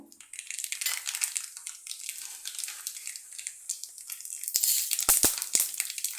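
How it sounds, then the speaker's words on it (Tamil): Mustard seeds crackle and sizzle in hot oil heated for frying plantain, a dense, busy spatter of pops close up, growing louder with sharper bursts toward the end. "காய்க்க பொறிச்ச எண்ணெயிலையும் கடுகு போட்டுக்கோங்க"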